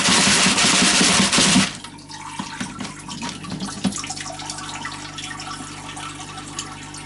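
Liquid pouring out of a bucket of gold foils recovered from RAM sticks, a loud rushing gush for under two seconds that then stops, followed by quieter drips and clinks.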